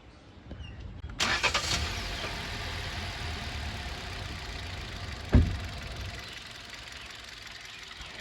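A used car engine cranks and catches, then settles into a steady idle with a single sharp knock partway through. The engine sounds close, with no talking.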